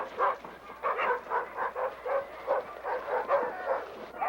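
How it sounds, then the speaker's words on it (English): Alaskan sled dogs bark and yip excitedly before pulling, a rapid, steady run of overlapping barks from several animals, close and fairly loud with no talk. "The dogs spend most of their lives chained to a stake, so when they get a chance to pull,"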